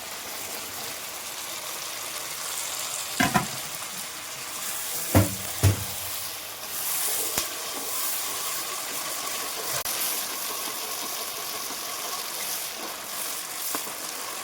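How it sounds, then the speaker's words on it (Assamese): Peas and tomato being stirred in a frying pan while preparing a pangas fish and raw turmeric dish, with a steady sizzle and a few louder scraping stirs near the start. "আমি এতিয়া লাৰি আছোঁ"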